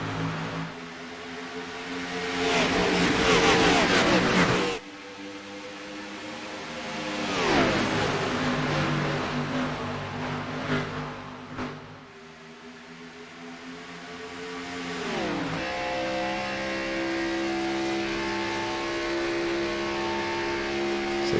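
Race cars in the iRacing sim at a superspeedway accelerate after the green flag, engines droning and rising in pitch as they build speed, with whooshing pass-bys and shifting tones across the field.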